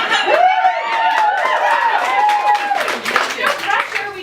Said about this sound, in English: No pressure to clap each time, I guess.